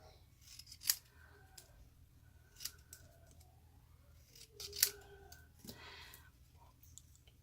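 Scissors snip through stamped black cardstock during a craft project, giving a few quiet crisp cuts spaced a couple of seconds apart, close by in an otherwise quiet room.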